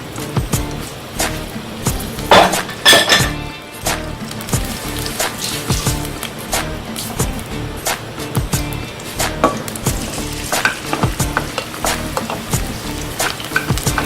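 Onions with garlic sizzle and crackle in hot oil with frequent sharp pops and scraping stirs, loud and close, no talking.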